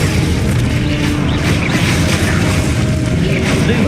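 Expulso spell explosions in Hogwarts Legacy rumble continuously: a dense, loud, booming blast with crashing debris that fills the whole stretch without pause.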